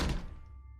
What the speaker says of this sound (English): I closed the door with a thud